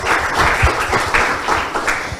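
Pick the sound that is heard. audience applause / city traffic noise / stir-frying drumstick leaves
audience applause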